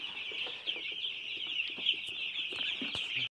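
A flock of young black broiler chicks cheeps continuously: a dense, high, overlapping chorus of peeps nearby, with occasional louder individual calls and no speech.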